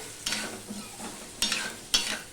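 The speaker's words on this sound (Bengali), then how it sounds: "হলুদ দিয়ে আমি ভেজে নেব আলুটা আর পেঁয়াজের সাথে" Potatoes and onions frying with turmeric in a pan, quiet and close, with a soft sizzle broken by three sharp spatula scrapes while stirring.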